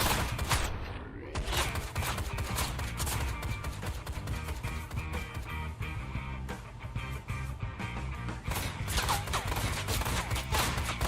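Gunfire in the motorcycle action game Ride to Hell: Retribution, a dense rattle of repeated shots under game music and effects, fairly quiet overall and continuous.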